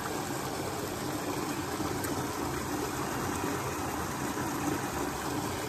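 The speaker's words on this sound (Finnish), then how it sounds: "Meillä on täällä tämmönen pienen pieni puro." Small forest stream with little waterfalls, swollen after overnight rain: a steady, even rush and gurgle of flowing water, close and continuous with no talk.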